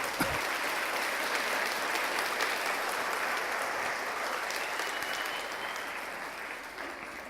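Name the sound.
church congregation applauding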